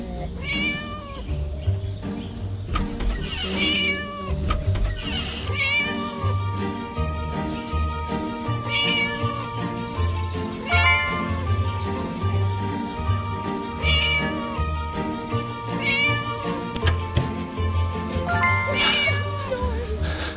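A cat meows again and again in loud, close calls that repeat throughout, some drawn out, heard over a steady musical game backdrop in a Turkish horror-themed mobile game.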